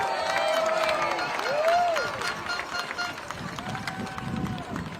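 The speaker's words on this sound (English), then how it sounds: "Let's give them a big round of applause." Outdoor crowd at a youth baseball championship parade for the Lake Mary All-Stars, World Series champions, with clapping and cheering, whistles and shouts under a loud, continuous crowd roar.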